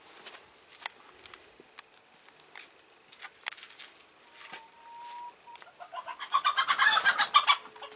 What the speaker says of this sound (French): vous pouvez entendre les poules qui se bagarrent